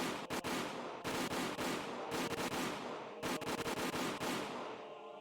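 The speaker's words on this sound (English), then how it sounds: "The sound of the gunshots echoed in the silence." Soldiers' gunfire in the visual novel Minagoroshi, loud bursts of rapid shots in several volleys separated by brief pauses, with the last burst trailing off into a fading echo.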